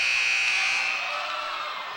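Buzzer sounding at the end of a quarter in a girls' high school basketball game, a loud steady electronic tone held for about two seconds amid crowd noise in the gym.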